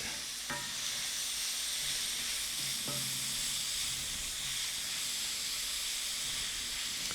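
Two teaspoons of garlic frying in a hot pan for a venison stir fry, a dense continuous sizzle and hiss close up, with a couple of faint utensil clicks.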